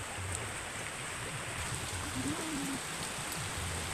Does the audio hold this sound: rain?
yes